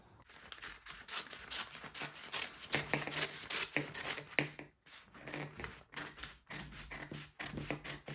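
Scissors cutting out a fabric sleeve, heard as a dense run of close, rhythmic snipping and rustling that continues with only brief pauses, with no voices.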